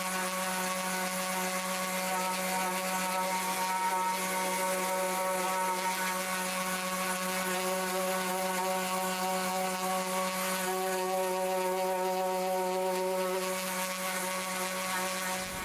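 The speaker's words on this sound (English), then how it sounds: "I can also do it with an orbital sander" An orbital sander works steadily across a semi-hollow guitar kit body, giving a continuous close whirring buzz with a constant tone for the whole stretch, with no pauses or talk.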